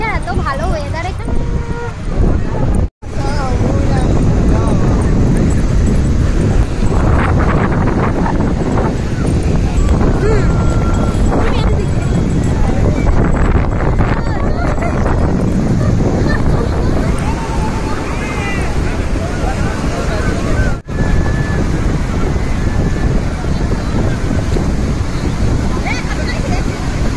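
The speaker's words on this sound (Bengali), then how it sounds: "বিচটা তো দেখছি সবে এলাম, এত সুন্দর হাওয়া দিচ্ছে" Strong wind blows across a beach, buffeting the microphone in a loud, continuous rumble with surf-like roar underneath, while people talk over it.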